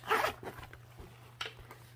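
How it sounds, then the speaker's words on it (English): A zipper closes on a sewn fabric backpack in a quick, loud rasping pull near the start, followed by softer fabric handling and a second short zip burst, all close up with a steady low hum beneath. "let me zip this up so you can see a little bit better"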